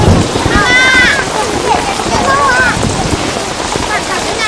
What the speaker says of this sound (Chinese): 大太阳的，怎么还下雨啊？